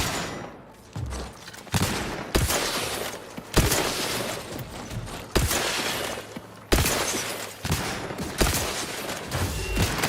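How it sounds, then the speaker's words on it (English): A heavy mech gun fires in The Outer Worlds 2 in loud, booming bursts and single blasts spaced irregularly over sustained rumbling combat noise, each shot sharp, close and dominant, with no voices. "I've got a proper mech gun for this,"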